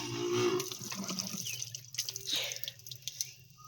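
Tap water splashes and drips into a sink while a face is being washed, a close, gurgling run that thins into scattered drips and splashes toward the end.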